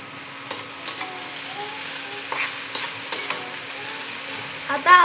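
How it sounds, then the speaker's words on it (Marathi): Chopped, washed cauliflower dropped into a hot kadai, giving a steady sizzle with scattered stirring clinks and scrapes, plus a louder clatter of utensils near the end. "हा फ्लावर असा मस्तपैकी कढईत टाकायचा।"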